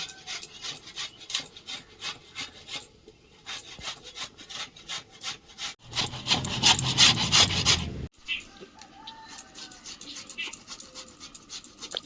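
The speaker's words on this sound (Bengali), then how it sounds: "মূলোটা কোরণে ফুরে নেব" A radish is rubbed against a grater in a home kitchen, giving rapid, steady rasping strokes, close and fairly loud, with a brief denser burst of grating partway through.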